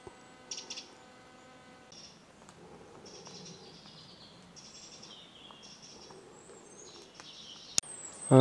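A Eurasian wren gives its alarm call, a run of sharp, dry high chirps heard outdoors at moderate distance, ending in a sudden loud knock.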